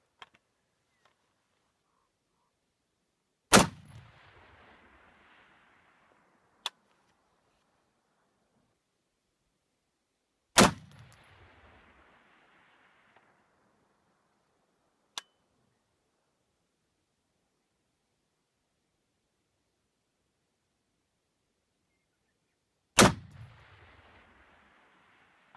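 Three loud, sharp rifle shots from an LMT AR fired at long range outdoors, spaced several seconds apart, each followed by a rolling echo, with two fainter crisp ticks between them.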